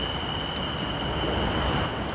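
A Bangkok skytrain pulling out of an elevated station, heard as a steady broadband rumble of wheels and motors with a high sustained whine running throughout, continuous and fairly close, with no talk.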